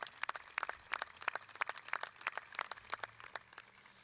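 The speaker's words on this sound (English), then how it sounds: "give all the parents, significant others, and friends a big round of applause for all their support" Scattered clapping at the NEO A&M College Commencement 2023 ceremony, a thin, distant patter of individual hands in an uneven rhythm, fairly faint, with no voices over it.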